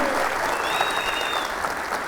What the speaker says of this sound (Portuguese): senhores, uma salva de palmas para Marlon Luz